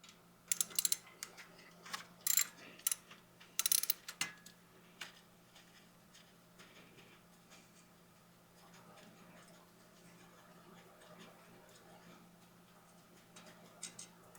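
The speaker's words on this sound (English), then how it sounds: "go ahead and remove that 8mm, and then we can go ahead and slide that out" Removing an 8mm bolt near the lower ball joint of an 11th-generation Ford F150, heard as a few quick bursts of close ratchet clicking early on, followed by faint scattered ticks and handling noises.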